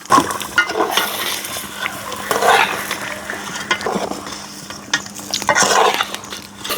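Meat and potatoes cook in a pot while being stirred, giving scraping and clattering strokes over a soft sizzle, close and fairly loud throughout.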